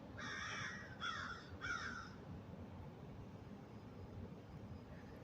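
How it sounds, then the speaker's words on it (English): Several crows caw outdoors in three quick harsh bursts near the start, then fall silent over a steady low rumble of wind or distant traffic. "The birds."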